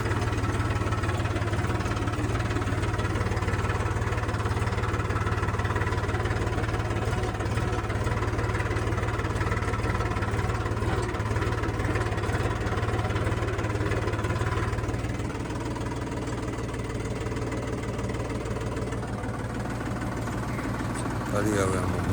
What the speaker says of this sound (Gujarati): આપણે ગ્રોમેક્સ કંપનીનું હિન્દુસ્તાનનું ટ્રેક્ટર કેવું લાગ્યું